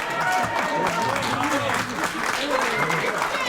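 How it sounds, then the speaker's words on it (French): An audience claps for a team at a June barbecue gathering at Le Nautile, a moderately loud, steady patter of applause mixed with overlapping voices talking. "je crois qu'on peut les applaudir bien fort"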